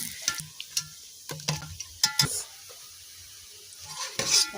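Mandazi dough frying in hot oil and being turned over, with a soft sizzle broken by a few close clinks and scrapes of a utensil against the pan.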